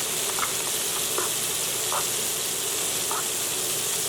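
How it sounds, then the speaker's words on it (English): Garlic and onion sautéing in a hot pan for a meat pie filling, a steady close sizzle and hiss with a few soft stirring clicks, no talking. "Now we can start sauteing our garlic. And then we can now add our onion."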